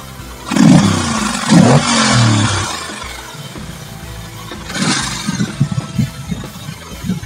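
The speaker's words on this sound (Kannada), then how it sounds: "ಎಂಜಿನ್ ಸ್ಟಾರ್ಟ್ ಮಾಡಿದ ನಂತರ ಹೇಗೆ ಸೌಂಡ್ ಮಾಡುತ್ತೆ ನೀವೇ ಕೇಳಿ." A Triumph Speedmaster 1200cc parallel-twin motorcycle engine fires up and revs, with two strong throttle blips early on, a steady rumble and then more bursts of revving near the end, close and loud.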